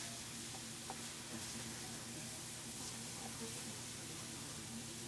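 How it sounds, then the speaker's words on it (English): A steady, soft sizzle of butter frying in a pan, a continuous gentle hiss with faint crackles, no talking. "This is frying up nicely."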